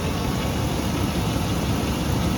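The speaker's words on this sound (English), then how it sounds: "Little clicking noises. Almost sounds like a tappet." Big truck engine idling with small tappet-like clicking, a steady loud, close rumble droning continuously with the clicks buried inside it, no voices.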